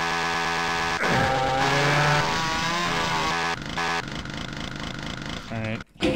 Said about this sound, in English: But do chainsaw whatever's up here.